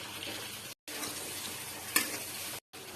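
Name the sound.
stirring and frying spice pastes in a pan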